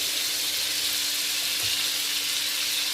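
Two tablespoons of butter and a little olive oil sizzle in a curry pan for aloo matar paneer, a loud, steady frying hiss throughout with no voices.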